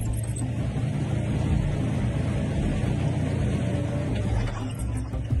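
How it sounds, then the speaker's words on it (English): Steady, loud low rumble of an overloaded tank engine running on an armored tank fitted with a mine roller and an electromagnetic attachment, droning continuously without pause. "The engine is clearly not designed for such an overload. Just listen to how it sounds."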